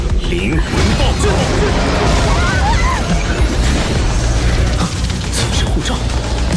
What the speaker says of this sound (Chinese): 灵魂爆炸